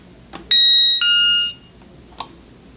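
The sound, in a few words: security system door/window chime from test kit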